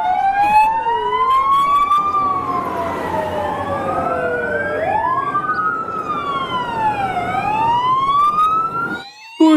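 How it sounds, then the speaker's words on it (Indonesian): Several overlapping wailing sirens rise and fall continuously over a steady motor drone, loud and close, from a toy fire truck with a water cannon among other vehicles. "Wih, ada mobil damkar water cannon"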